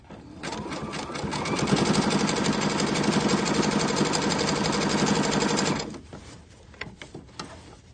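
A sewing machine runs steadily through several layers of fabric, a dense rapid mechanical whir that builds and holds for about five seconds, then stops, leaving a few faint clicks and handling sounds.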